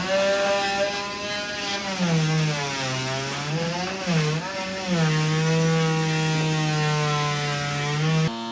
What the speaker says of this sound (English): This oscillating cutter will cut this 40-year-old rubber seal out pretty easily